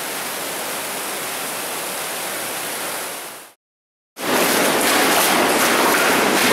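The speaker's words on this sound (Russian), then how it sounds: "а тут Нищенка несет свои бурные воды вниз по течению" The underground river Nishchenka rushes through a brick sewer collector in Moscow, a loud steady roar of churning water that breaks off briefly to silence and then returns even louder.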